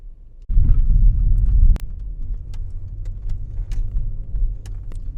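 A car rolls along the streets of Norman, Oklahoma past Main Street and Norman High School, a steady close road rumble and engine drone after a brief thump, with faint ticks and rattles inside the cabin.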